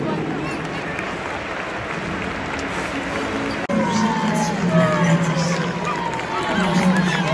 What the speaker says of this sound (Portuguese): e a torcida está aplaudindo.